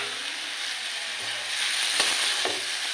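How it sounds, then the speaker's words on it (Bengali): Noodles frying with egg in a pan give off a steady, loud, close sizzle with a constant hiss, plus a few faint stirring ticks toward the end. "এবার নুডলসটা 2 মিনিট ভেজে নেব"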